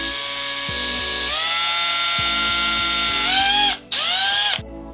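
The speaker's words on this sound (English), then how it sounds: "that's where I'm going to drill my hole." A power drill bores a hole through a plastic light spinner toy, a loud whining motor with rising and falling pitch as it bites, briefly stopping near the end before spinning up again and cutting off.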